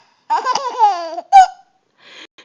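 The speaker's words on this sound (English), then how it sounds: "Does mommy have the hiccups?" A woman hiccups and laughs in short voiced bursts, one sharp loud hiccup standing out, followed by a brief pause and a faint final sound.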